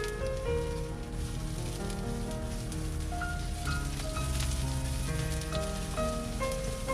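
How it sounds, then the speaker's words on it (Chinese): Scallions, ginger, garlic and chili sizzle in hot Sichuan-peppercorn oil in a wok, a dense, continuous crackling hiss close by, with a faint tonal background under it and no talking. "开始爆锅"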